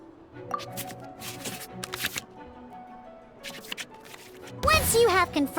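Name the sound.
shuffling cards back into the draw pile in a video game card match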